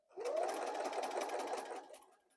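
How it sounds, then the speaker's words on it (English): A sewing machine stitches flannel strips for a baby blanket in one steady, close whirring run that rises quickly, holds for about two seconds and then winds down. "I'm sewing down to the corner on the diagonal"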